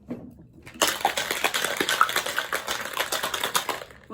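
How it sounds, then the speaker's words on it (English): Ice rattling hard inside a cocktail shaker, loud dense clatter starting after a quiet moment and continuing steadily with rapid rhythmic shakes. "I'm shaking it up and I'm fill this with ice"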